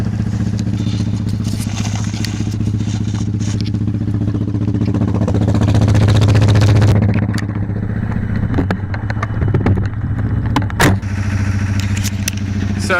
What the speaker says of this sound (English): just going to get the motor going and get the engine going again